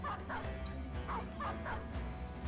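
A dog barks repeatedly in the strategy game Battle Brothers, sharp yelping barks in a quick series over a steady low game soundtrack.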